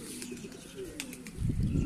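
A Feroz Puri pigeon coos softly in low, rolling notes, close by, before a louder muffled rumble takes over.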